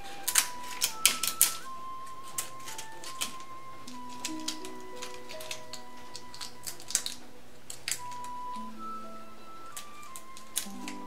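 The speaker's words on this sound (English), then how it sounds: "Well, seeing the knife didn't work, using scissors is a good idea." Scissors snip through dried kombu seaweed in a home kitchen, with a cluster of sharp close clicks and crunches near the start and scattered quieter snips later, over soft background music.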